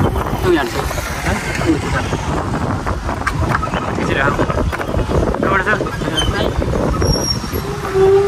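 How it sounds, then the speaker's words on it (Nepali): A motorbike rides along a rough, roadless trail, its engine droning steadily beneath heavy wind buffeting on the microphone throughout. "बाटो बाटो हिँडेर बाइक आइरहेको छ"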